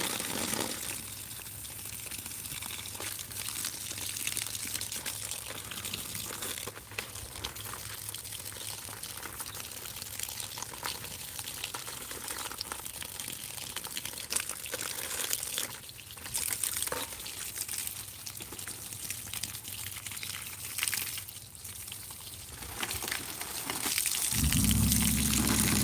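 Water poured from a hose or can onto neglected garden plants beside a new garden bed, a steady splashing gush running continuously near the mic, with no talking.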